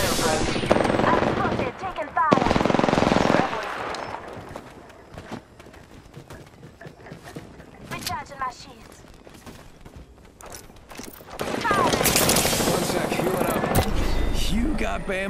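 Bursts of gunfire in Apex Legends come in loud clusters at the start and again near the end, with quieter shots and game noises between, and a voice talks over parts of the fight.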